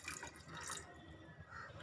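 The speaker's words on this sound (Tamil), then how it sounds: "இதில் ஒரு கிளாஸ் அளவுக்கு தண்ணியை ஊற்றி" Water is poured into a pressure cooker holding soaked chickpeas for hummus, making a faint, short splashing and trickling sound with no talking.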